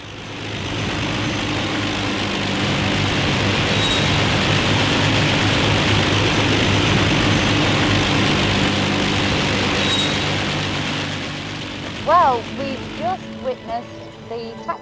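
A loud, steady roar of a Lancaster bomber's Rolls-Royce Merlin piston engines revving on a grass runway runs continuously, then eases off as a few brief voices break through near the end.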